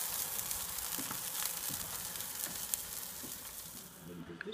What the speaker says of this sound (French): vous aimez ce petit bruit de cuisson